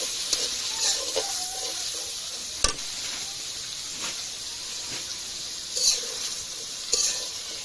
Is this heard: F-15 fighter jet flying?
no